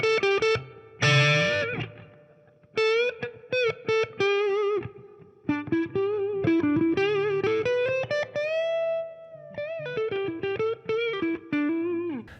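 An EVH Wolfgang Standard Exotic electric guitar with spalted maple top plays through its humbucker pickups on a crunchy, mildly distorted tone, a loud riff of chords and single-note runs with sustained bends and short gaps.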